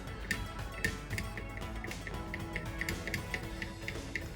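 A ratchet clicks in a quick, regular run of close ticks as the last bolt on a Classic Mini DSN timing cover is pinched up finger tight, with no talking.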